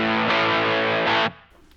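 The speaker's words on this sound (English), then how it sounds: "good beefy bit of distortion" A heavily distorted electric guitar through a MayFly Terrain Deluxe pedal, a thick sustained chord struck, briefly dipping and restruck, then cut off into a fading ring.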